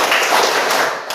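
Hands clapping in a counting game during a classroom lesson, a brief burst of dense claps from a group of standing pupils, close and fairly loud, with no clear talk.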